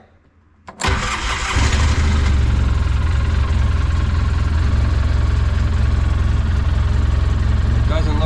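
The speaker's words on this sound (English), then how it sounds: "So we'll fire it up now and we'll see if it fixed our check engine light." A Polaris Ranger 800 utility vehicle, running rough with its check engine light on, cranks briefly after a short quiet moment, catches, and settles into a loud, steady close-up engine drone that runs to the end.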